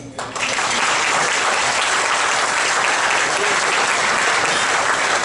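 A banquet crowd at a Florida reunion breaks into sustained, dense applause, loud and even throughout, with faint voices mixed into the clapping.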